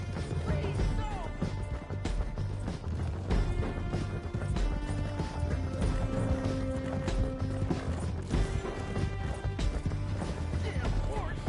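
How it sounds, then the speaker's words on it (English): Horse hooves galloping in Red Dead Redemption, a steady drumming rhythm running under dense game music, crashes and voices for the whole stretch. "Damn horse!"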